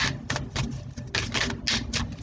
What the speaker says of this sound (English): I'm just going to shuffle a minute while I gather your energy a little bit.